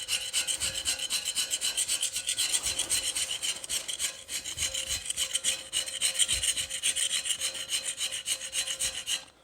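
A tool scrapes the metal frame of a mini bike during restoration, producing continuous rasping strokes in an uneven rhythm, close and fairly loud with no talk.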